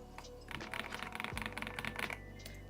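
Rapid clacking keystrokes on a custom mechanical keyboard with no top case, a quick close burst of typing lasting a couple of seconds at low volume.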